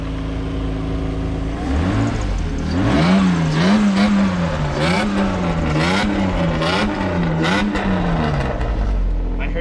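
A Mercedes engine starts and revs repeatedly, rising and falling in loud, rhythmic swells over several seconds, with people talking over it.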